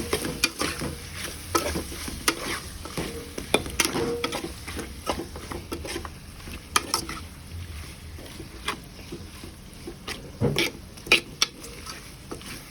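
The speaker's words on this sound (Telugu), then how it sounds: "చికెన్ మొత్తం దీంట్లో కుమ్మరిచ్చి దాన్ని ఒకసారి మంచిగా కలుపుకోవాలి" Chicken is tipped into a pan and stirred for a simple bachelor-style curry, with a faint frying hiss under repeated knocks and scrapes of a spoon against the pan.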